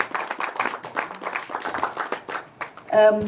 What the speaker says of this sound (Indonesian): Tepuk tangannya jangan setengah-setengah ah.